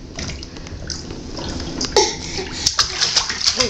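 Bath water splashes and sloshes continuously while a baby is washed in a tub, with close-up drips and small splatters and brief voices heard over the water.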